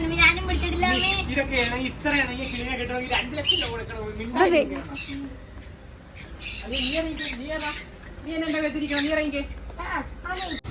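Harsh, repeated squawks and screeches from a macaw, close and loud, mixed with people talking nearby.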